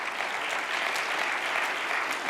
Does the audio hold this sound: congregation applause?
yes